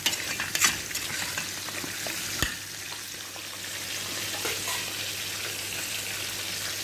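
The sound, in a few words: stirring rice with fish and black lemon in a pot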